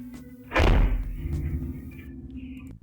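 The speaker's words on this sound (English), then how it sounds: "sound of the door slamming was way too bloody loud for the way that door slammed" A door slams shut with one loud, heavy thud and a booming low resonance that rings and fades over a couple of seconds, close by and alone without talk.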